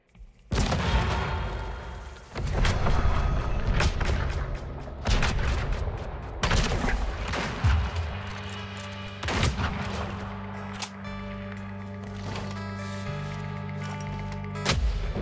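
Repeated gunshots ring out in the game Weird West, sharp loud bursts spaced irregularly over a steady low hum, with a few dense volleys early on and sparser shots later.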